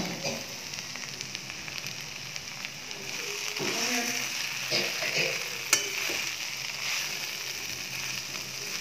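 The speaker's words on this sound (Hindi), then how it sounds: "और साथ में बन रही है भिंडी फ्राई, ये देखिए।" Okra (bhindi fry) sizzles steadily in a pan while a spatula stirs it with scraping, clinking strokes, close and continuous with no talking.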